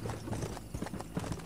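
Horse hooves clip-clop steadily in Red Dead Redemption on PS3, a moderate trotting rhythm heard close but soft under low game ambience.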